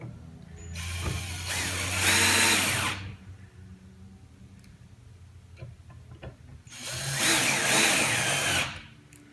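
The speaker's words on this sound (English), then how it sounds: "I'm going to use a screw gun." A handheld screw gun driving screws into pre-drilled brackets on a studio desk: two separate bursts of whirring motor a few seconds apart, close and clear, with quiet handling noise between them.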